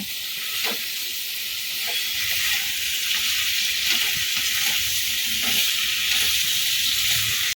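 Cauliflower frying with spices in a pan as the curry is cooked down, a continuous bright sizzle with soft intermittent stirring scrapes, close and steady without voices.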